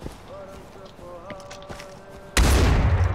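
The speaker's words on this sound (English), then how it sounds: "now let me, like, walk outside the city here and shoot my gun" Near the end, a single loud, dense gunshot burst from a weapon in Far Cry 4 erupts abruptly after quieter footsteps and faint tonal in-game sounds.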